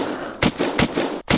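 Heat wave light machine gun in the game Unturned firing three loud bursts at steady intervals against a dense, continuous game-audio background, with a brief dropout near the end.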